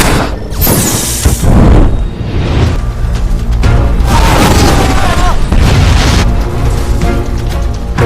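A house blown up in a film scene: a heavy, loud explosive boom followed by sustained rumbling and crackling debris, with dense layered action-movie sound throughout.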